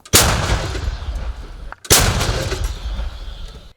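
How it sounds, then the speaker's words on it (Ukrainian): Two loud, booming artillery blasts about two seconds apart, each with a long rumbling decay, close by and with no talking, firing on enemy infantry near Bakhmut. "Постріл!"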